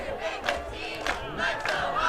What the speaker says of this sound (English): Good crowd on hand tonight to see if the cheer squad can get the crowd going